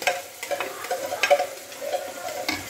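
Diced tomatoes and red pepper fry in hot oil in a pan, giving a continuous close sizzle with soft stirring scrapes and small crackles throughout. No voices.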